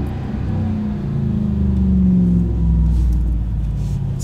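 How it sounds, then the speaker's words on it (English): A RAM 1500 TRX with an MBRP Race Profile black cat-back exhaust downshifts in manual mode, giving a loud, deep rumble that swells with brief revs and then settles, recorded close to the tailpipes with no talking. "Something I like to do, throw it into manual and listen to the downshifts."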